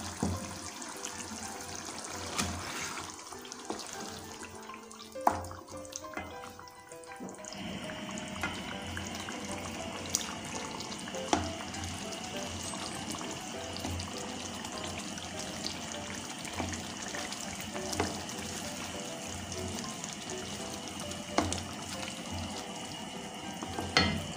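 Chicken tikka karahi masala being fried with yogurt and spices in a pan: a continuous, steady sizzle with occasional clicks and stirring scrapes throughout, close and moderately loud, with no one speaking.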